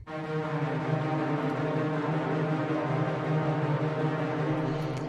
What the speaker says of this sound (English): And then I have these strings right here.